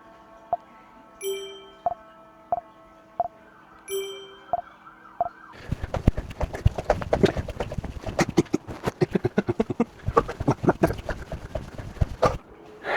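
Short electronic beeps driven by a heart rate repeat at a steady, fairly quick pace, then a dense clatter of noise and clicks takes over and masks them.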